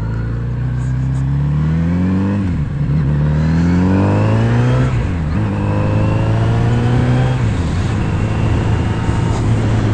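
Kawasaki Z900RS motorcycle engine on a test ride, loud and close, revving up through several quick gear changes with the pitch rising, dipping at each shift and climbing again over steady wind noise.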